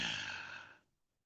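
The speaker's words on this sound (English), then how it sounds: "Breathing." A single breath exhaled close to the microphone, a soft airy sigh that fades out after under a second, leaving silence.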